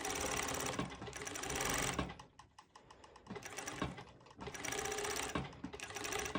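A sewing machine runs in fast rattling bursts while stitching fold-over elastic on pole dance bottoms, pausing briefly in the middle before starting up again, close and steady.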